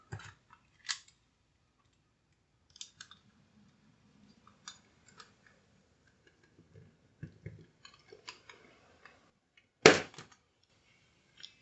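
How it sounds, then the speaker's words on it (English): Small cutters snip through a plastic pin header, giving a few crisp clicks and snaps spaced several seconds apart, with one louder cut near the end and faint handling noises between. "we're going to take the pin header and cut 2 pins."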